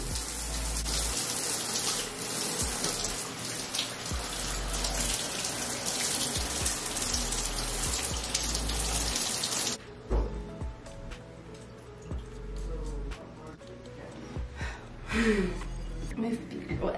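Water runs loudly and continuously from a tap while aloe vera is rinsed out of hair, the flow shifting and splashing more unevenly later on, with a voice speaking over it.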